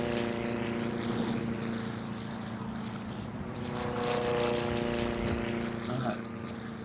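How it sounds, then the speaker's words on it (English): Airplanes flying over a city in the SimCity video game, a steady droning engine hum with layered tonal whine that swells and fades slightly, continuous throughout without speech. "So many planes."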